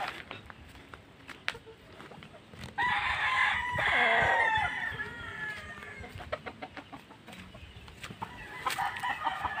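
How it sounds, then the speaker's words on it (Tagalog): Fighting-cock roosters, hens and chicks in a yard: a rooster crows loudly near the middle, with scattered clucks and small peeps before and after and a little distant talk. "dito ang mga sisiw"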